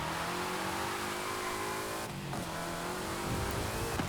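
A completely stock car with assists off in Forza Horizon 5 revs hard while sliding sideways, a steady loud engine drone with shifting pitch, a brief dip midway and rising whine near the end.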